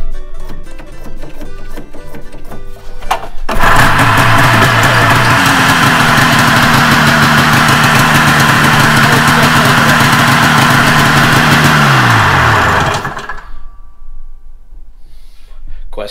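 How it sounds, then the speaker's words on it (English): An old snowmobile engine starts up and runs loud and close at a steady idle for about ten seconds, then cuts off abruptly. "Questionable sled number two, up and running."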